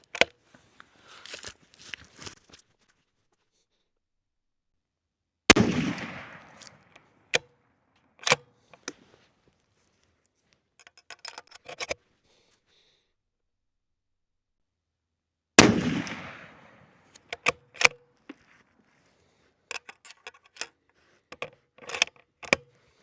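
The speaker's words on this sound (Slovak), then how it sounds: "Teraz si odstrieľame toto isté, 24-palcová hlaveň, stúpanie 1:10, identické náboje, ČZ 557," A CZ 557 rifle in .308 with a 24-inch barrel fires at a 100 m target, two loud, sharp shots with decaying echoes far apart, surrounded by faint clicks and handling noises of the bolt and gear.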